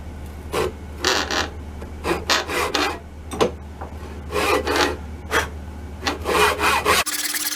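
A handsaw cuts a rough, oversized semicircle into the wooden fore-end of a 1912 Norwegian Krag carbine. The strokes are close and loud, coming in repeated bursts with brief pauses between them, and the sawing ends abruptly near the end.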